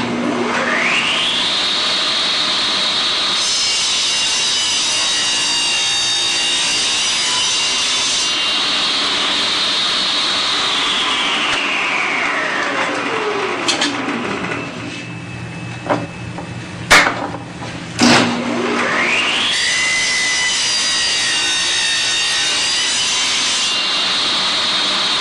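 A power saw in a woodworking shop cutting tenon cheeks in wood, with a loud whining blade that rises as the cut begins, holds a steady high pitch, drops away, then spins up again near the end.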